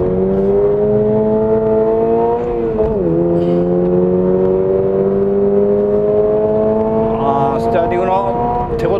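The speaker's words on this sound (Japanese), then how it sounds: "水平対向エンジンやっぱいい。" A Toyota GR86 or Subaru BRZ prototype boxer engine with six-speed manual hums steadily with a brief rev dip, then climbs in pitch as it accelerates, heard from inside with faint voices underneath.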